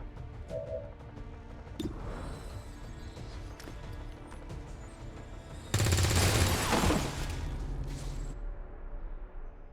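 Gunfire in the turn-based strategy game XCOM 2, a sustained loud burst of shots lasting a couple of seconds over ongoing game sounds and music, with a few fainter impacts around it.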